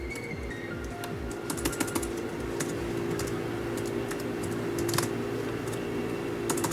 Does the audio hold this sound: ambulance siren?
no